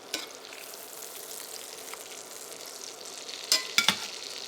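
Steak sizzles steadily in a hot pan while being basted with rosemary, a continuous close frying hiss with a few sharp spoon clinks and spatters near the end, no talking.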